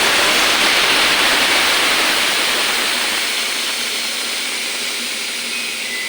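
Water splashed into a hot pan of spiced curry, coloured with Kashmiri chilli, for a shing fish and green banana dish; a loud, steady, steaming hiss that eases off slightly toward the end, with no talking.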